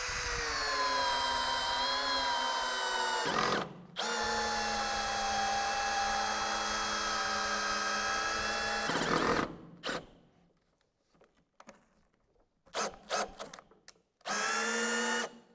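A Bosch 12V cordless drill drives large screws, whining loud and steady in two long bursts, then short stop-start pulses and a final burst, with quiet gaps between.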